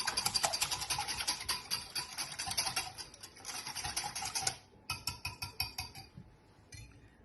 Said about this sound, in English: I'm going to use a whisk and whisk all that together.